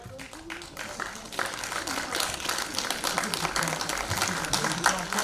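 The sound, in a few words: audience applause at award ceremony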